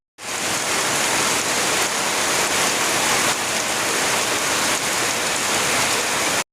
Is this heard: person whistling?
no